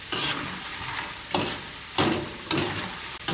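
Noodles fried in oil in a small pan are stirred and tossed, giving a steady close sizzle broken by several sharp scraping stirs at regular intervals.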